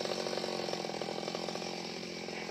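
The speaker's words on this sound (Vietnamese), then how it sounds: "cưa cây vú sữa này luôn nha các bạn" A chainsaw runs steadily at full throttle, loud and close, cutting down a star apple tree, its engine buzzing continuously without pause.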